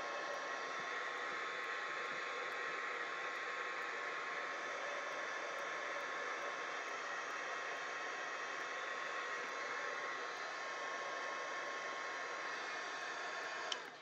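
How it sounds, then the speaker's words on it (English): A heat gun drying paper for mixed media face painting on artist trading cards blows steadily, a continuous even whooshing roar up close for the whole stretch, cutting off at the end. "when you're using a heat gun, it's pushing the moisture through the paper"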